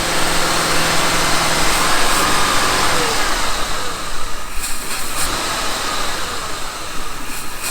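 A rusty 351 Cleveland V8, revived after 15 years sitting dormant, runs loud and close, at first with a steady rumble and then a rougher, fluttering idle with uneven pulses. No one talks over it.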